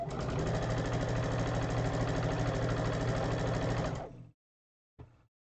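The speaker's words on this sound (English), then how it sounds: "So first I am going to take these two, sew them together." A sewing machine stitches quilt sashing pieces together in one steady, fast rhythmic run of about four seconds, then stops abruptly before a brief final burst of stitching.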